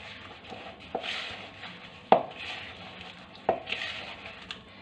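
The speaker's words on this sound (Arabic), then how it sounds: "هكا نخلط هذا الزبده مع السكر." Butter and sugar are mixed together in a bowl, with soft scraping and stirring sounds punctuated by a few sharp clinks of the utensil against the bowl, fairly quiet and close.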